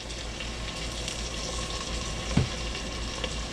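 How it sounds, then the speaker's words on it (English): Vegetables sizzle in a pan after a splash of beef stock goes in for goulash, a close steady frying hiss with a brief clack of stirring partway through. "Just till we hear that sizzle."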